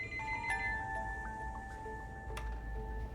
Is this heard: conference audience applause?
no